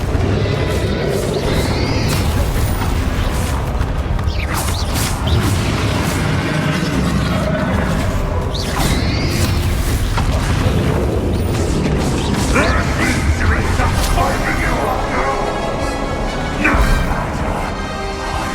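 Bombarda and Confringo explosion spells cast in Hogwarts Legacy, dense crashing blasts and rumbling impacts layered over continuous loud game noise and music, with a voice speaking intermittently.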